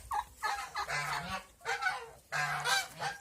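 Several turkeys gobble and honk in repeated bursts, close by and fairly loud, with no talking.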